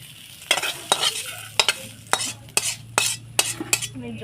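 Masoor dal paste being stirred and sautéed in an oily pan, with a steady low sizzle broken by about ten sharp, rhythmic scrapes of a spatula against the pan, close and clear with no talking.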